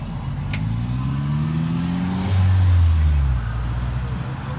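A car turning around on a street in a U-turn, its mid-range engine rising and falling as it revs and moves off, fairly close, with steady road noise underneath and no talking.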